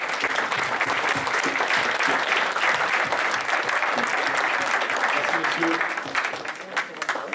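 Steady applause from a crowd at a trading duels final fills the clip, dense clapping that thins slightly near the end.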